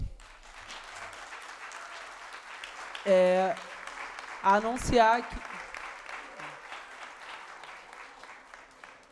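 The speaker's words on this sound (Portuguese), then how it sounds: "Esperar a salva de palmas para o Alexandre, que ele merece todas" Applause at a human rights committee session on the right to water, a continuous background patter of clapping for Alexandre, interrupted by a loud voice and a microphone burst midway, with speech over it.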